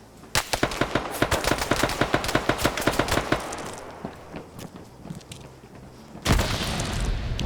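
Gunfire in a PvP shooter video game match: a rapid string of loud automatic shots, then scattered quieter bangs, and a final sharp burst near the end.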